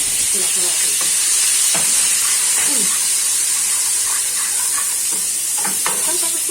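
A spoonful of ghee and a little oil heat in a pan for a tempering for spinach, giving a steady, loud sizzling hiss with scattered light pops and crackles throughout and no speech.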